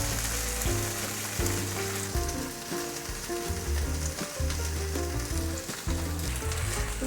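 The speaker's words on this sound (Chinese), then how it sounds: "这里也变成金黄色了，给它煎另一面。" Bean sprout and carrot patties sizzle steadily in oil in a pan, a dense continuous crackle of frying that stays loud and close throughout, with a low musical backing underneath and no talking.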